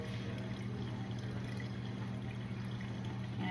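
Chocolate sauce pours through a kitchen strainer with a faint, steady trickling under a low background hum, continuous and close.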